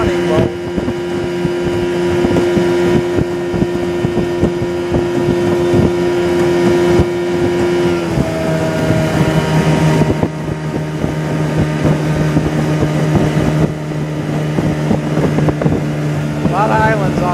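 Flat-bottom duck hunting boat with a Mercury outboard motor running steadily, a loud droning hum whose pitch drops partway through, with wind buffeting the microphone and a voice talking over it.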